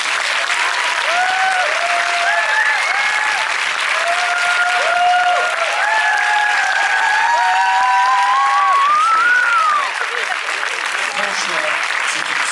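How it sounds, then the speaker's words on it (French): Sustained applause from a film premiere audience, dense and loud throughout, with whistles and cheering rising over the clapping before it fades slightly near the end. "un énorme applaudissement."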